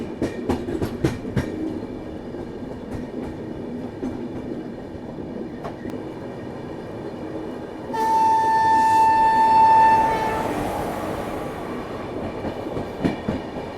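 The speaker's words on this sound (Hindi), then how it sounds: "देखो स्पेशल ट्रेन लग रही है मेरे को।" A train passes nearby, likely a special on the foggy Prayagraj–Kanpur section, with steady rolling rumble and rhythmic wheel clatter; a long sustained horn blast sounds partway through, then the coaches keep rumbling past.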